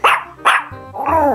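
A dog barks in Minecraft, the video game: two sharp, loud barks in quick succession followed by a longer whining yelp, close and clear with no talking over it.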